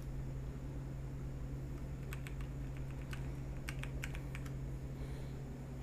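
Keys clack on a computer keyboard fitted with a handmade wrist rest, a scattered run of crisp taps in short bursts, close and fairly quiet over a steady low fan hum.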